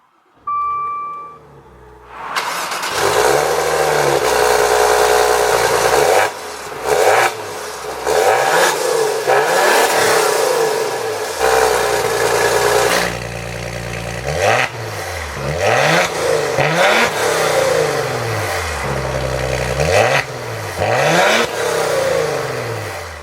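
A short electronic chime, then a 2019 Maserati Levante S GranLusso SUV engine cranks and roars to life close by, settling into a loud, steady run with a few revs.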